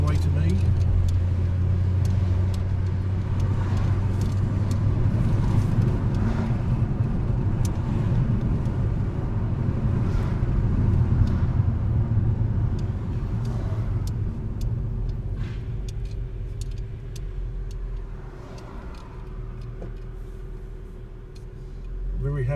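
A Mercedes AMG E55 cruising along an Australian country road toward Mount Panorama, Bathurst, heard from inside as a steady low engine and road rumble that eases slightly later on, with a person talking over it.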